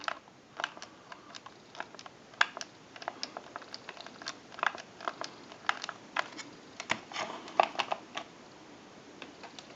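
Rapid, irregular clicking and ticking with short sharp transients as the rotary dial of a vintage frog-shaped telephone spins and returns, fairly quiet with no voices.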